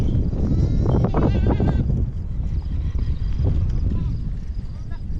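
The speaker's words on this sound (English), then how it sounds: "Boy, that's a lot of goats, everybody." Several goats bleat and call over one another at close range, a noisy overlapping chorus with some vocal chatter mixed in.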